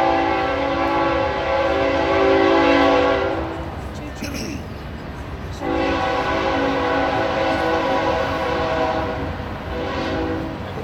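A train passes through Perry, its horn blasting loudly in two long sustained soundings separated by a short gap, over rumbling rail noise during an outdoor ceremony.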